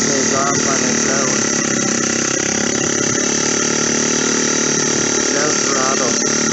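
A motorized bicycle engine runs with the choke on, a loud, continuous buzzing drone with steady revving close to the microphone, with a voice talking over it.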